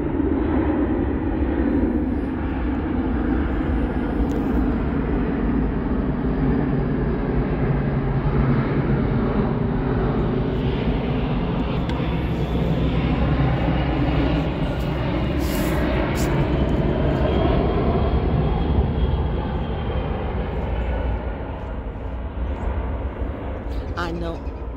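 Military aircraft passing overhead, a loud, steady, broadband engine roar that fills the entire stretch without break.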